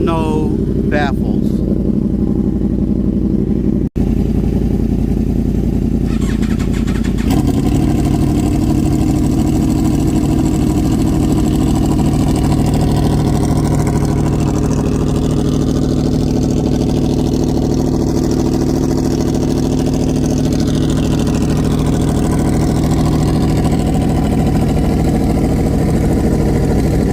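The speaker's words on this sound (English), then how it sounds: "And now we're gonna do the other 2014 Yamaha R1 with a slip-on Toce exhaust." A 2014 Yamaha R1 sport bike with an unbaffled slip-on Toce exhaust runs close and loud, idling with a rough mid-pitched burble and a sharp rise in intensity partway through, the engine sound continuous throughout.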